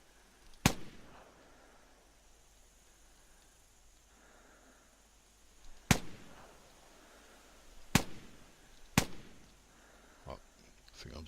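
Hunting rifle shots in theHunter, fired at butterflies at Bushranger's Run, as four sharp, loud single cracks spaced a few seconds apart over a quiet outdoor ambience, with a fainter knock near the end.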